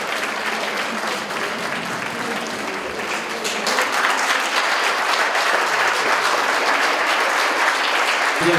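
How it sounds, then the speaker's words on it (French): An audience at a Baby-Friendly Hospital event breaks into applause, a broad patter of many hands that swells noticeably partway through and then holds full and steady. "je souhaite qu'on les applaudisse"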